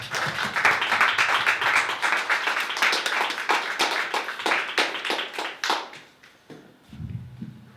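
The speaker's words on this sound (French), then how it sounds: "sous un tonnerre d'applaudissements" Hands clap in a fairly regular, distinct beat at the official opening of a 2023 interschool cup as a lyricist is invited up. The sharp claps thin out and fade after about six seconds, then a voice begins.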